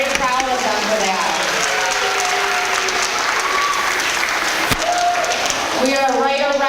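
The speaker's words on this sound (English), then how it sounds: "So let's give them a round of applause." Audience applause at a school academic awards ceremony, a loud sustained wash of clapping from a large crowd, with voices and cheers rising through it.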